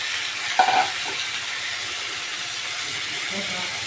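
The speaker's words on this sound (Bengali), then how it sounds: "মাছটাকে দিয়ে আমি একটু ভালো করে নাড়িয়ে চাড়িয়ে নেব" Small fish frying with onions in a pan give a steady close sizzle, with a brief clatter of stirring near the start, and no clear talking.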